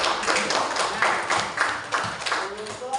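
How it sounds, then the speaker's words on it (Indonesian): A class of fourth-grade children claps together in a classroom, a dense run of quick, overlapping hand claps with no talking over them. "Tepuk tangan."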